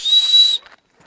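A hand-held personal safety whistle blown outdoors on a trail gives one loud, piercing, steady blast of about half a second, then cuts off into near silence.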